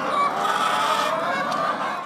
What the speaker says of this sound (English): These chickens are laying eggs as fast as they can